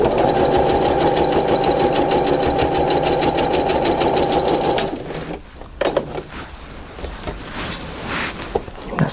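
A sewing machine stitches a quilt block seam with a quarter-inch seam allowance, a steady, loud mechanical whir running for about five seconds before it stops, followed by softer handling noises.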